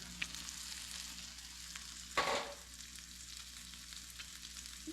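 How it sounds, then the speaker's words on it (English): Bacon frying in a pan gives a steady soft sizzle with a brief louder crackling burst partway through, close and quiet with no voices. "This will take a while for the bacon to render."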